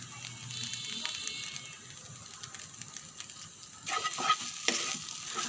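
Noodles with spices and quail eggs are stirred in a hot pan, giving quiet scraping and rattling of the spatula over a soft sizzle, with louder, busier stirring near the end.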